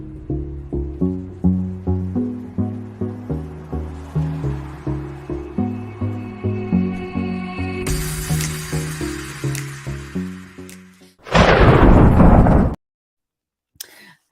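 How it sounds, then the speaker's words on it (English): A thunder-crack sound effect bursts out loud and harsh for about a second after a steady, rhythmic musical passage, then cuts to near silence. "And with a crack of thunder"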